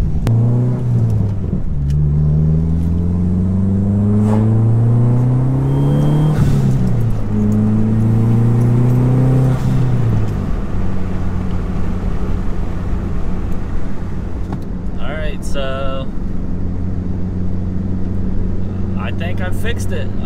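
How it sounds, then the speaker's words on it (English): Dodge SRT-4 driving on a ground-down, very bumpy road, still running imperfectly after an O2 spacer install: a loud engine drones and rises in pitch through repeated revs and gear changes, with steady road rumble and a few rattles. "Sorry if there's a ton of road noise. The road is ground down, so it's super bumpy"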